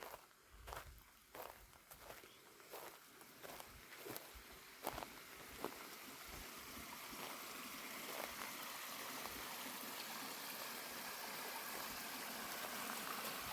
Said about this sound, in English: There's a creek that runs right through it here.